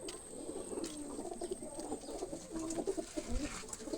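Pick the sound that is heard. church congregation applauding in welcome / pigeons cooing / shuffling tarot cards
pigeons cooing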